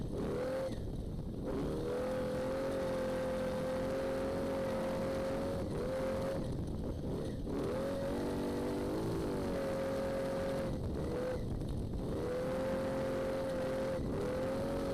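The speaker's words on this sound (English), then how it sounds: "Third gear, hard on the throttle." A race truck pushes hard in third gear on a desert stretch of the NORRA Baja race from Ensenada to San Felipe. Its engine rises again and again in loud, close revving sweeps, and a brief shift break separates each climb.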